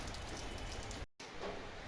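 Light rain falls steadily on a cloudy morning, a soft continuous patter that drops out briefly midway before resuming, with no voices.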